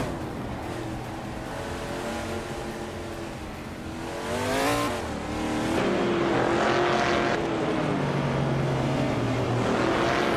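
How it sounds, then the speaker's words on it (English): A 1970 Plymouth Barracuda Dalton races in a video game, its engine droning steadily before a rising rev and upshift midway, then holding a louder, sustained roar close by. "Rosigold Gaming is driving a 1970 Plymouth Barracuda Dalton"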